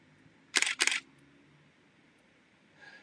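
Two quick shutter releases from a DSLR camera set to 1/250th second, each a sharp mechanical clack close together, then quiet with a faint rustle near the end.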